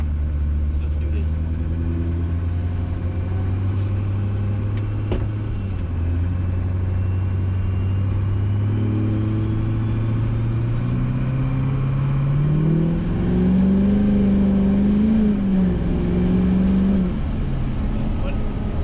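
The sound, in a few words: truck with swapped Duramax engine driving on first test drive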